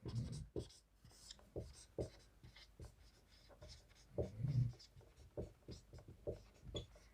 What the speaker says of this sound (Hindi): यहाँ हम लिख देते हैं साइड में रिमार्क में